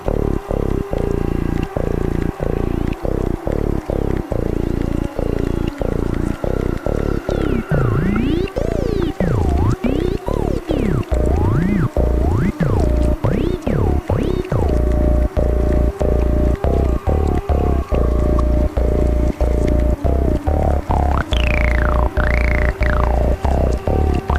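Looped cassette tape textures layer into a dense sci-fi city soundscape, with steady rhythmic pulses under sweeping, warbling tones that glide up and down, loud and continuous throughout.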